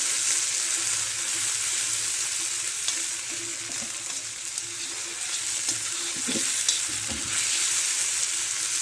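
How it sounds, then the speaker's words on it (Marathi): Tomato squeezed into hot oil fries in an iron tawa for a spicy masoor dal and onion dish, a steady close sizzle throughout with occasional soft stirring scrapes. "थोडंसं टोमॅटो पिळून द्यायचं तेलामध्ये"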